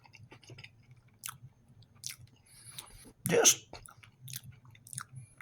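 Close, wet crunching and chewing of crunchy biscuits in irregular bites, one louder crunch standing out, with a low steady hum underneath and no talking.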